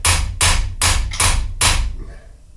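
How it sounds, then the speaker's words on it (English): Five hard hammer blows strike a silver-brazed carbide chamfering tool in an even rhythm about every 0.4 seconds, each a sharp metallic crack with a dull thud beneath, close and loud, then a short fading ring. "Believe me, I'm hammering it really hard."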